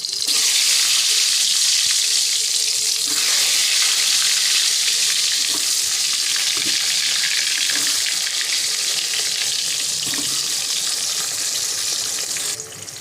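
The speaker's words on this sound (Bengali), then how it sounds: "এবার বেগুনগুলো ভেজে নেবো" Round eggplant slices, salted and coated with turmeric, fry in hot oil in a wok with a loud, continuous, even sizzle that holds close and steady throughout, with no voices.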